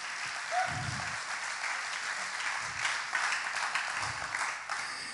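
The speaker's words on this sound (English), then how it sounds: "Clap your hands to the Lord." A church congregation claps along in sustained, even applause, with a few low vocal bursts rising under the clapping.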